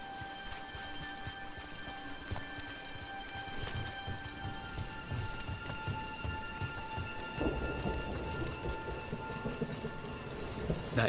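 Steady rain falls in Dragon Age: The Veilguard, a dense hiss of drops on surfaces with low rumbles of thunder underneath, fairly faint and continuous throughout.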